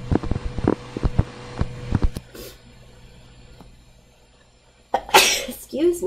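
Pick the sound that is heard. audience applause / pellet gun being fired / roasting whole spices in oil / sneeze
sneeze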